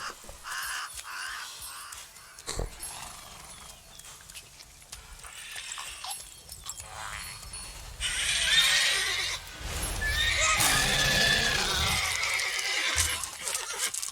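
Roach the horse from The Witcher 3 neighs and whinnies amid galloping hooves and game ambience, the calls growing loud and busy partway through.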